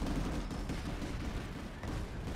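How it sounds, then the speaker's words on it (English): Gunfire from a Vanguard tank in Planetside 2 comes as a dense, continuous rumble of low thuds and crackles, steady and fairly loud without any voices. "that same Vanguard guy is shooting us"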